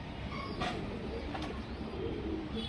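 Pigeons coo softly in a few low, throaty calls over a faint background murmur, near but not loud.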